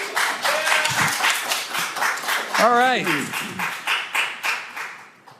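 An audience at a Senate Finance Committee hearing keeps up rapid, continuous clapping. The claps come as steady, crisp bursts, while a person speaks briefly partway through.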